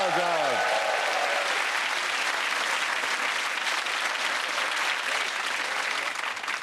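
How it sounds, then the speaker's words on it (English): A studio audience at a comedy panel show bursts into sustained, loud applause. A voice speaks briefly at the start before the clapping carries on evenly to the end. "that round of applause goes to Tessalia"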